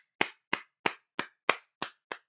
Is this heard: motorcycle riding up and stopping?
no